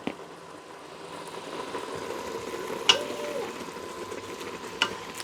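Tomato paste with sun-dried tomatoes simmering and sizzling softly in a Ninja Foodi, a gentle continuous bubbling hiss broken by a couple of light clicks from a utensil against the pot; no talk.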